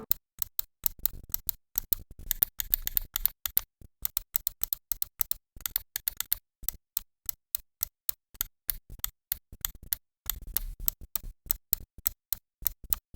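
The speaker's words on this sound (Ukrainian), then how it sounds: "сам клік чіткий та зрозумілий, та досить гучний" Rapid sharp clicks of a Proove Gaming mouse's side buttons, crisp and fairly loud, coming in irregular bursts and quick runs with brief pauses between them.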